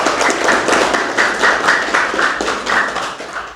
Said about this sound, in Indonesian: Tepuk tangan yang meriah untuk Allah.